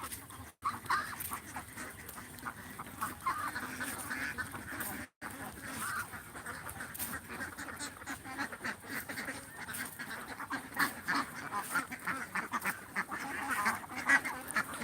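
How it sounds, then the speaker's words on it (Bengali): Indian Runner laying ducks at a hatchery keep up a dense, continuous quacking throughout, with many birds calling at once in a steady, noisy flock chorus. "এগুলো সবগুলো রানিং ডিমের হাঁস"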